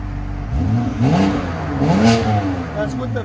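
A 2019 BMW M2 Competition with a 3.0L twin-turbo inline-six and its exhaust valve closed, revving in a few rising and falling blips from a muffled idle, close and fairly loud, with faint talk around it.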